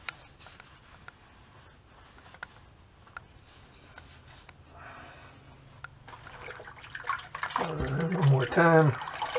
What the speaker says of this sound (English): we're going to wet my cloth with some of my cold water,